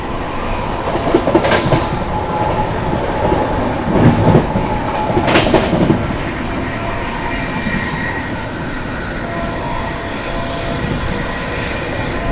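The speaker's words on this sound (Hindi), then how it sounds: "सामने से आ रही है आनंद विहार से चलकर जयनगर की ओर जाने वाली गरीबरथ एक्सप्रेस" Anand Vihar–Jaynagar Garib Rath Express rolling past close by, a steady loud rumble and clatter of wheels over rail joints with brief metallic squeal bursts, continuous throughout.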